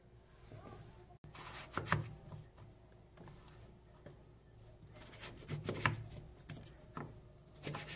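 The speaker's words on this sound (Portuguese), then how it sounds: "Eu corto assim em pedaços pequenos" A knife chops pumpkin into small pieces on a board, with irregular, soft thuds and scrapes close by and quiet in between.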